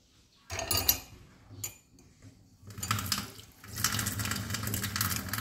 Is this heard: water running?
yes